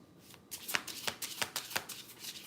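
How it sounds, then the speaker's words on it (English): A Crow Tarot deck is shuffled by hand, a steady run of crisp riffling card flicks and taps close up, about a dozen quick rhythmic bursts, quiet and alone. "I'm gonna shuffle. This is the Crow Tarot."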